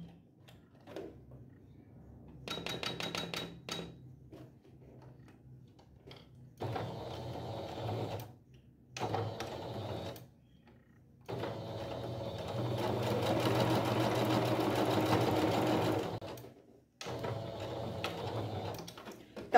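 Sewing machine stitching a fabric and tulle cake cover, running in several bursts of steady mechanical whirring, the longest lasting a few seconds, with brief pauses between runs and no talking.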